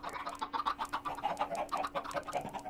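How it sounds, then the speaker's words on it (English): Rooster clucking in Minecraft with the TerraFirmaPunk modpack, a steady run of short, close, fairly loud clucks and chatters in quick rhythm, with no speech over it. "I am now moving the rooster."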